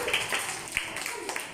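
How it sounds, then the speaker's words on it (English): A few faint, scattered claps from children in a classroom, short sparse slaps spread over a second or two with no talking. "Good, clap for him."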